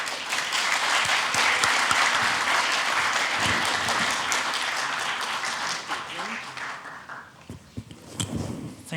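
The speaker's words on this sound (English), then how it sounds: "Please greet him with a round of applause." Audience applause at a debate-style talk event greets a speaker invited to the stage, a dense sustained clapping that fills the room, then thins out and fades near the end, with a few scattered claps left.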